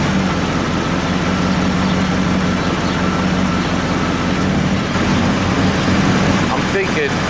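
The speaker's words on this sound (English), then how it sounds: "The compressor is still turning on and off." Steady low engine idle from a third-generation Camaro Z28 IROC with warm-blowing air conditioning, a continuous near hum with subtle shifts as the compressor cycles on and off; a voice talks over it.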